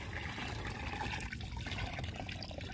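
Water fountain splashing in a SpongeBob video game, a faint, continuous watery gurgle and trickle, steady and low throughout with no voices.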